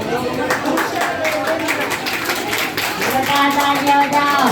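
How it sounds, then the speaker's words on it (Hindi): An audience claps at a certificate ceremony for about 80 children, producing a dense, continuous patter of applause that runs steadily throughout, with voices mixed in underneath. "जोरदार तालियां बजाओ।"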